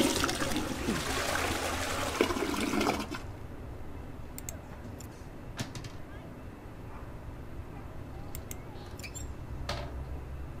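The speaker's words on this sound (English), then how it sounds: "one of the only things I can think to do is to flush it down the toilet" Toilet flush in a video game, a loud rushing gush of water that stops abruptly after about three seconds, leaving quiet ambience with a few soft clicks.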